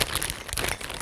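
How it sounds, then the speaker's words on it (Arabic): A plastic piping bag crinkles in quick, close bursts as caramel buttercream frosting is spooned in for an apple cake, with no talking over the rustle. "ونجيب بايبنج باج او كيس حلوين ونحط فيه"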